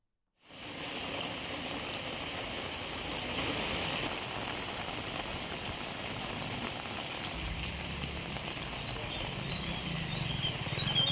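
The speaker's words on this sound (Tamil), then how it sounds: "பலத்த இடியுடன் கூடிய கனமழை பெய்தது" Heavy rain pouring steadily in Srivilliputhur, a dense, even wash of patter that starts abruptly and continues loud and unbroken throughout, with no voices.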